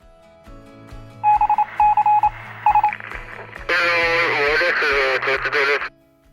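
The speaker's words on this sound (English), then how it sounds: "Message on the intercom." A motorcycle intercom on a touring bike sounds a message alert as a series of short electronic beeps in bursts, followed by a longer bright chime, with faint talk and steady riding noise underneath.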